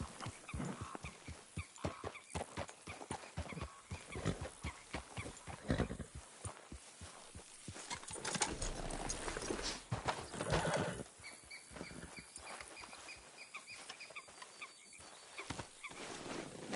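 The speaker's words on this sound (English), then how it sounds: "We'll need to go on a horse." Horse hooves clip-clopping steadily on the ground in the Red Dead Redemption 2 video game, with a whinny partway through and ambient game sound beneath, no talk.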